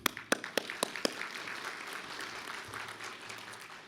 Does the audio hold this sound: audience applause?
yes